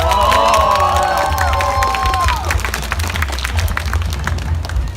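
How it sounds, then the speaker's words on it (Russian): Festival crowd at Big Fest applauding and cheering to welcome a comics artist on stage, a loud, continuous wash of clapping with a few whoops and shouts in the first half. "Поприветствуйте его аплодисментами"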